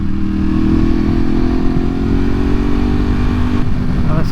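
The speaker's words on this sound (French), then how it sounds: "En plus elle fait un bruit avec la thermie." A 2022 Ducati Hypermotard SP motorcycle engine runs loud and close, holding a steady rumbling drone throughout.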